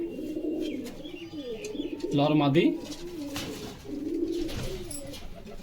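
Pigeons coo in low, rolling calls at a breeder's sale, with a louder burst of cooing near the middle, while someone talks over them throughout.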